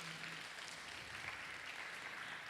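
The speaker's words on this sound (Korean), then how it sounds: "우리 모든 분들에게 우리 한번 축복의 박수 같이 하도록 하겠습니다." A church congregation at a Sunday worship service at Pohang First Church applauding together, a dense, even wash of clapping held at a constant level throughout.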